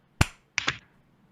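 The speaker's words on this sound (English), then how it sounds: "We're going to do a sync clap for this." Two sharp hand claps sounding close and dry, struck as a sync clap for a podcast recording, the first louder and the second a quick doubled smack a fraction of a second later, then quiet.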